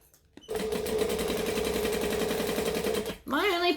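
A sewing machine runs a fast burst of stitches while a bag is sewn, rapid regular needle clatter starting and stopping, followed by a brief spoken voice.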